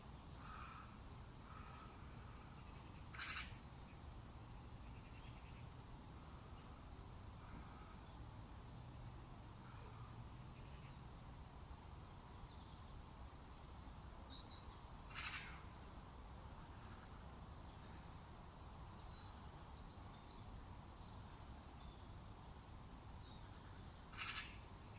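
Quiet outdoor ambience at Titmus Lake, a soft, steady rustle of wind through trees with faint insect hum, broken by three short, distant bird calls spaced far apart.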